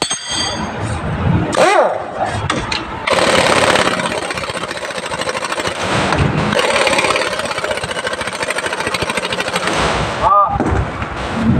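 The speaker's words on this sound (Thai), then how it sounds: "พอแล้วก็ยิงน็อตเข้าให้มันแน่นก็พอ" An impact wrench drives nuts tight while an Isuzu bogie axle is assembled, firing a few rattling bursts of hammering close by. Mechanical clangs fall between them, and a voice is heard at times.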